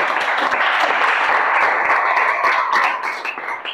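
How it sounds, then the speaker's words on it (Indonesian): A classroom group gives steady, dense clapping that holds for a few seconds, then thins out and fades. "beri tepuk tangan dulu"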